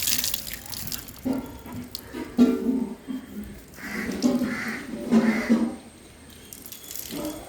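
Water runs and splashes while a washing machine is washed at home, rising and falling in uneven bursts, close by, with a faint voice now and then.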